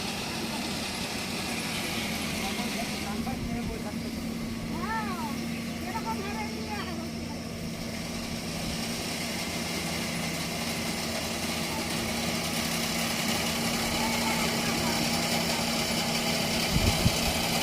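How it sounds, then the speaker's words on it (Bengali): A harvesting machine cuts a rice paddy in a Bangladeshi village, its engine droning steadily at a distance, with a voice speaking over the hum for part of the time. "আমাদের ওই যে ধান কাটতেছে মেশিন দিয়ে"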